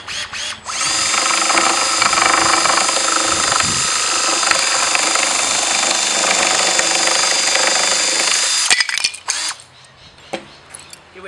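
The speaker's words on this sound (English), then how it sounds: "Here we have the Malco Turboshear NS1, specifically made for our slate tiles." A Malco Turboshear NS1 power shear cutting slate roofing tiles, a loud steady high-pitched grinding whine running about eight seconds before stopping abruptly.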